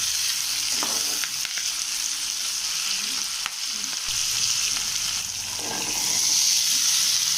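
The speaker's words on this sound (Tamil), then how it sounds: "உப்பு சேர்த்து நல்லா வதக்குங்க." Curry leaves and spices with salt sizzle and fry steadily in a hot pan throughout, with occasional stirring scrapes and a brief swell of frying toward the end, close and loud with no talk.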